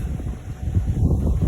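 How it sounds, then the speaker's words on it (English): Strong outdoor wind buffets the microphone in continuous low rumbling gusts, close and loud, with no voice over it. "it's obviously very windy right now"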